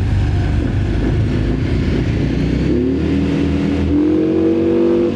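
A Benda Chinchilla 350 CVT cruiser scooter's small engine hums and then climbs in pitch as it picks up speed, with steady road and wind noise throughout.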